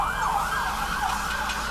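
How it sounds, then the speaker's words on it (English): An ambulance siren wails steadily in a rising and falling pattern, loud and close, with road rumble underneath and no talking, on a snowy day. "there goes the ambulance."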